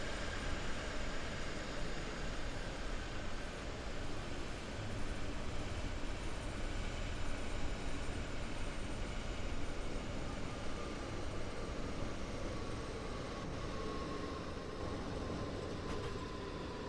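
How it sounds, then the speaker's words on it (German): An oncoming train passing a BR 422 electric multiple unit on the S8 line toward Hagen in Train Sim World 3, a long, steady rumbling rush of wheels and carriages holding level for many seconds. "Kommt uns der nächste Zug entgegen."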